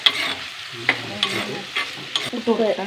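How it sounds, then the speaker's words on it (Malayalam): Potatoes sauté and are stirred in a pan, bright close sizzling with periodic scraping strokes of the spoon against the pan and no voices. "ഉരുളക്കിഴങ്ങ് ഇങ്ങോട്ട് വഴറ്റുക"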